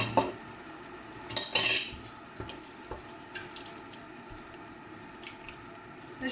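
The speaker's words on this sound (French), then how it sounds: "Donc je mélange bien hein, pour que ça ne colle pas dans le fond de mon couscoussier." Tomato paste being stirred in a couscoussier for Moroccan vegetable couscous: a faint low sizzle under scattered spoon scrapes and clinks against the metal pot, with a sharper clatter early on.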